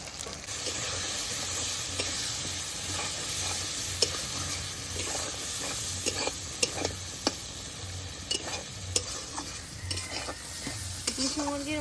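Salt, turmeric and chili powder are stirred into a frying masala for Kadaknath chicken curry, with a steady close sizzle and soft spoon scrapes and taps against the pan throughout, no voices.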